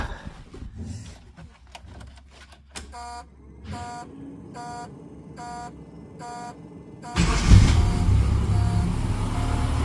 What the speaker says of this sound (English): Let's see if this thing will start right now. It starts.